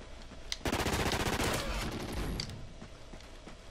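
A rapid automatic-weapon burst in Call of Duty, loud and close, rattling for nearly two seconds before tailing into quieter background gunfire.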